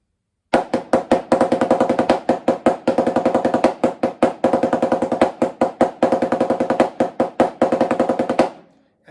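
Snare drum played in a rudiment exercise of repeated nine-stroke rolls, each burst of quick bounced strokes ending on an accent, in a steady rhythm for about eight seconds, close and loud with no talking.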